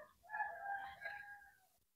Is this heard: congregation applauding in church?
no